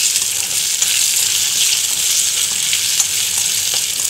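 Three eggs frying with onions in a pan give a steady, loud, close sizzle with faint crackles throughout, with no voices.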